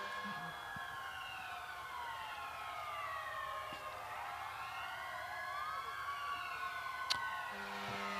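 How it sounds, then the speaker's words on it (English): Several emergency-vehicle sirens wail and sweep up and down at a Christmas parade, rising as they draw nearer, with a brief horn blast near the end over steady crowd background. "You probably can hear the sirens coming up."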